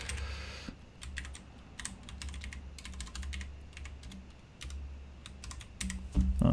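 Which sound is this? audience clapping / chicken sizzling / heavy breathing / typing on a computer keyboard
typing on a computer keyboard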